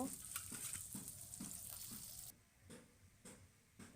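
Oil sizzling steadily as eggplant fries, with a hiss that drops suddenly partway through, leaving occasional soft stirring clicks.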